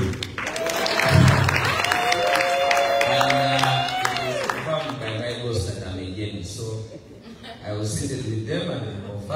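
Audience applause at the 2024 NUP political convention, a crowd clapping with scattered chuckles and cheers, mixed with talk and background voices throughout.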